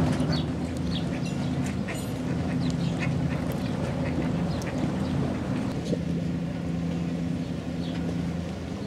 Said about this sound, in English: Seagulls and ducks live side by side here in the clear fresh water.